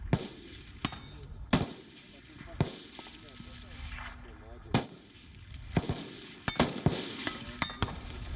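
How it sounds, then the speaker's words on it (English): Sharp cracks of a sniper rifle fired on a Russian training ground in the Ryazan region, several spaced shots with echo, under ongoing speech. "President Vladimir Putin was seen inspecting a training ground, even firing shots from a sniper rifle"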